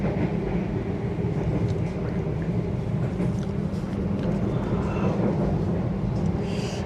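A Pangandaran passenger train runs straight through Cikampek station in Indonesia without stopping, making a steady, loud rumble of rolling carriages that lasts throughout, with a voice talking over it.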